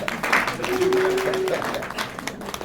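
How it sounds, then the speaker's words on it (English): A round of applause at a cycling criterium press event: scattered, moderate clapping from a modest crowd, with a sustained tone and some voices mixed in, thinning toward the end. "Another round of applause."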